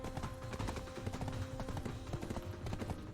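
Horse hooves clip-clopping in Black Desert Online, a steady rhythmic patter of game hoofbeats running throughout amid busy background game sounds, with no talk.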